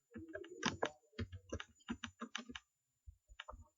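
Computer keyboard typing in quick, close bursts of clicking keystrokes, a short pause, then a few more taps; quiet overall.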